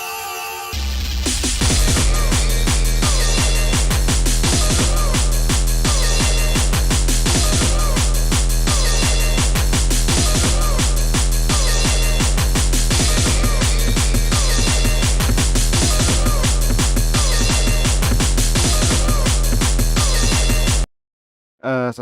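A loud gabber track with relentless, rapid, distorted kick drums pounding in a fast repetitive pattern over dense harsh synths, continuous for about twenty seconds before a brief cut to silence.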